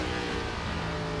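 Race car engine in the iRacing game on an ARCA car at Watkins Glen, a loud, steady, continuous engine roar filling the whole moment with no clear separate shift blips.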